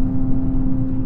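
Air conditioning running inside a Fiat 500 with a five-speed manual, a steady close hum with a strong low drone under cabin engine noise, continuous and even throughout.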